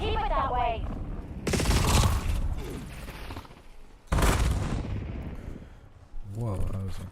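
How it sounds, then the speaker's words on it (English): Explosions and heavy gunfire in a video game: two loud sustained blasts of roaring, crackling noise a couple of seconds apart, with voices talking faintly at the start and end and in the quieter gaps between bursts. "that was an explosion right in front of me"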